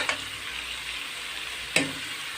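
Sugar, black pepper and bay leaves stirred in a frying pan, with a steady background sizzle and two sharp scrape-clatter hits near the start and late in the short stretch.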